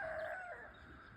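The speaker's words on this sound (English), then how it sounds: "There's chickens here running around." A rooster crows once nearby on a rural property in Southern Virginia, a loud drawn-out call that fades into quiet background.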